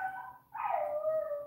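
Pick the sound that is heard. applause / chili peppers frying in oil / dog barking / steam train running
dog barking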